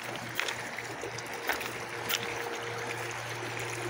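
The Lewis River flows steadily with a soft, continuous rushing and trickling wash, heard at a distance with a faint low hum underneath and no voices.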